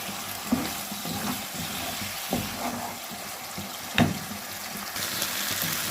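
Spices sautéing in a little oil for a rohu fish curry, a low steady frying hiss with a few scraping stirs and knocks of the spoon against the pan, close and fairly quiet, no talking.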